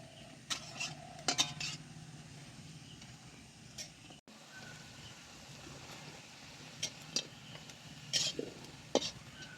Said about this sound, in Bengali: একে একে এই তেলে ভাজাগুলো আমি সব এখন তুলে নেব।